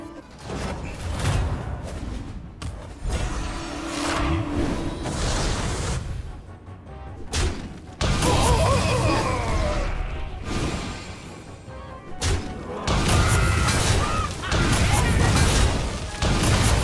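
Heavy booming blasts and crashing impacts from cannon fire in the game Hearthstone Battlegrounds, several bursts separated by brief lulls, loud and close.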